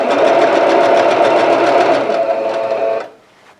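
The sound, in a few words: sewing machine sewing jelly roll quilt strips together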